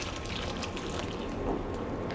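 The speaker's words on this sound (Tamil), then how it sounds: "இந்த மாதிரி கொதிக்க வச்சுருக்கிற தண்ணியை இதில் சேர்த்துடலாம்." Boiling water pours into a pan of rava kichadi (upma), a steady, even rush of liquid that stays at one level for a couple of seconds, with no talking.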